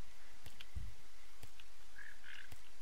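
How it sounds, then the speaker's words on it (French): Toads croaking in a video game: sparse low croaks and a few short chirps scattered over a soft, steady ambient background, with no voices. "Pour le moment, j'entends des crapauds"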